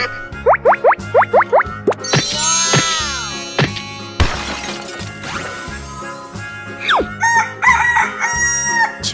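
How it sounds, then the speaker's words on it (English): A cartoonish rooster crows amid a busy animated mix of plops, clucks, shattering hits and other effects, bright and close in a rapid, jumbled sequence. "Chicken."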